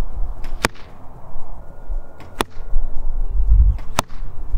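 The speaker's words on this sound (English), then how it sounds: "the sound that the bow and arrow make as the arrow is released, and the sound as the arrow strikes the target" A Diamond Infinite Edge Pro compound bow fires arrows at a target: three sharp, loud snaps spaced about two seconds apart, each a crisp release crack followed by a dull thud of impact, over light outdoor background noise.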